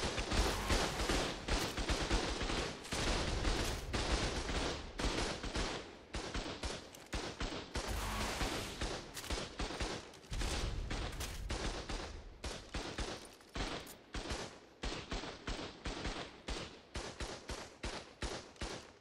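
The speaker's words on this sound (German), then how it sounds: "Er schießt gerade nur ein Turret." A turret in a base-defence video game fires a long, steady stream of rapid shots, one continuous rattling barrage lasting many seconds at a fairly even, moderate level, with no voices.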